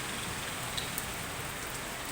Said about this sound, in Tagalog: Biglang umulan mga idol, oh.